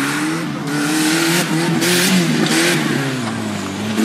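Off-road 4x4 vehicle engine with a minor fault, revving hard and loud during a Northern Thailand off-road competition, its pitch rising and falling continuously with brief tire-squeal-like bursts over about four seconds.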